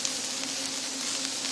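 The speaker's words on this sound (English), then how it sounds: "you can either pan sear it like this if you want to" Doner kebab meat sizzling steadily as it is pan seared, a continuous soft frying hiss with faint crackles and no talking.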